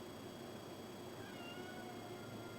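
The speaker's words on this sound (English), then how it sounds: "He's whining. My cat. One of our cats. He wants attention." A house cat whining for attention indoors, faint meows and whines rising over steady broadband room noise, close but quiet, with no talking.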